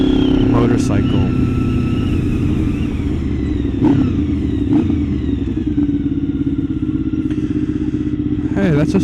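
A Honda VFR motorcycle engine drones loudly and continuously up close, with another VFR, street-fighter converted, passing by and someone talking over the noise.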